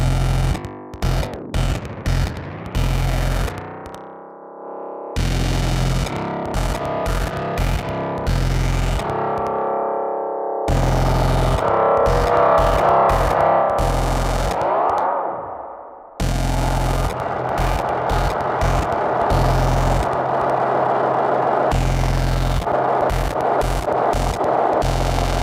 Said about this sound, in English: now let's start throwing in some echo and feedback